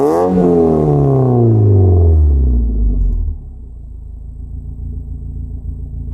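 Mazda Miata engine with a Borla Pro muffler revs hard, its pitch sweeping downward over about three seconds before settling into a steady low idle rumble, loud and close with no voices.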